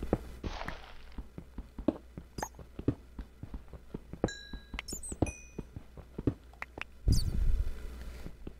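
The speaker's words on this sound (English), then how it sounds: "apparently those bats want to be free." Bats in a Minecraft cave, with small high squeaks scattered over a steady patter of quick taps and footsteps, then a brief louder rumble near the end.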